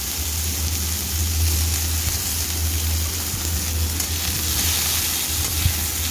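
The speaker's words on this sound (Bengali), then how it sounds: "এদিকে আমি উচ্ছেগুলো তেল দিয়ে হালকা করে একটু ভেজে নেব।" Bitter gourd pieces fry lightly in oil for a lentil dal, a steady close crackling sizzle with occasional stirring, alone and evenly loud throughout.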